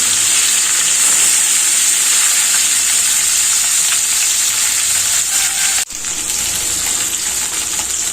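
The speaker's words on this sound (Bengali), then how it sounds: "মাছটা অল্প ভাজবো, বেশি ভাজবো না।" Continuous loud sizzle of bata fish frying in oil in a wok, crackling steadily, with a brief sharp clunk near the end before the frying carries on.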